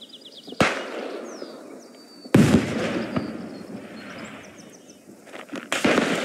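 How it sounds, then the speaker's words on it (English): Artillery explosions in the video game Beyond The Wire: two sharp distant blasts with rumbling tails, one near the start and a heavier one a couple of seconds later, over ambient battlefield sound with faint birdsong. "There was just a big explosion. Did that artillery?"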